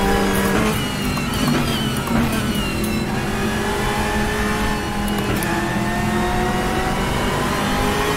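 A Ferrari race car engine in the RaceRoom video game revving hard and continuously, high whining tones shifting up and down, with occasional tire squeal, loud and without speech.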